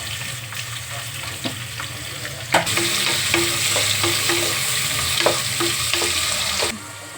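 Onions dropped into hot oil with roasted green chillies sizzle steadily for biryani, a continuous close fry with a louder burst as they hit the pan and faint stirring and utensil clinks throughout.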